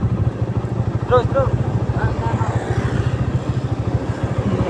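A motorcycle rides into the Sawarna tourist village in Lebak, Banten, its steady pulsing engine close and continuous throughout, with a brief spoken word and faint chirps above it.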